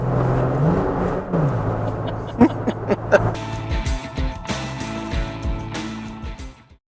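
A 2019 Toyota Tacoma TRD Pro pickup with a manual transmission revs hard and climbs through the gears, loud and close, with rising roar and shifting pitch before cutting off.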